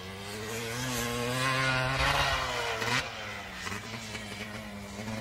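A motorcycle on a race track in Texas revs and accelerates, its engine note climbing steadily, dipping at a gear change, then pulling again, loud and close with no talk.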